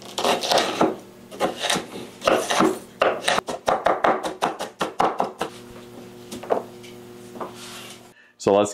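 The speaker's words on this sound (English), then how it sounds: "So let's get the onions diced up," Onions are diced for homemade venison and pork bratwurst with a knife on a wooden board, giving a rapid series of sharp, close chops that slow and thin out later, followed by a brief voice at the end.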